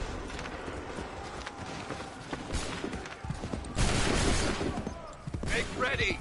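Musket volleys in Assassin's Creed 3 crack out in dense bursts amid battle noise and galloping hooves, a loud rolling burst standing out in the middle and another near the end.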